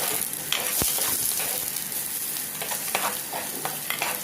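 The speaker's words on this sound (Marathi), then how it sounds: "तेव्हा थोडं जरा लाल होईपर्यंत ते कांदा जरा फ्राय होयला जायचं" Onion frying in a pan for a Bombay duck green curry, a steady close sizzle with occasional sharper crackles and stirring scrapes, no talking.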